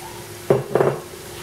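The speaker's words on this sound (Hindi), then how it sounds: "अब इसमें हम ये हमने जो मसाला भिगो के रखा था ये डाल देते हैं" Soaked masala tipped into a pan of cooked garlic and ginger, giving two short bursts of sizzle and scraping over a quiet steady background hum.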